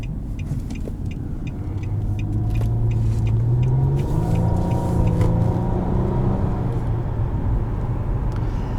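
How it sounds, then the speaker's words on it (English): A 2017 Nissan Maxima SV drives in sport mode, its engine note rising and falling through gear changes over a steady road rumble, heard from inside the cabin with no talking. "sport mode really wakes this car up"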